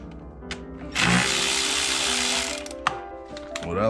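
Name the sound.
loosening the airbox clamp with an 8mm socket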